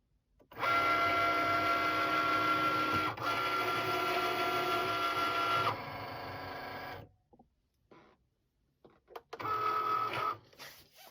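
A Cricut cutting machine cuts paper frames for junk journaling with a steady close mechanical whir and buzz for several seconds, then stops, then runs again in a shorter burst.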